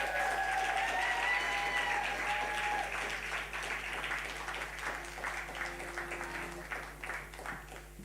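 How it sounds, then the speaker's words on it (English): A small audience gives a steady round of applause, dense clapping that carries on for about eight seconds and slowly thins out, heard at a moderate distance. "let's give them a round of applause."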